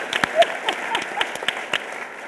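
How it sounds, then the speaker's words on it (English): A short burst of audience applause at a CNN town-hall discussion on the 2010 Census, with scattered, fairly sparse claps over about two seconds and little voice. "Let's give him a big round of applause for answering that question in 60 seconds"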